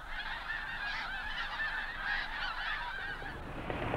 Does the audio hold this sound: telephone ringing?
no